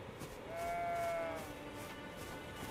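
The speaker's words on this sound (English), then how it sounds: "goat or a sheep. I don't know." A goat or sheep in the video game Elden Ring gives a single drawn-out bleat over a steady ambient game background, moderately faint and alone.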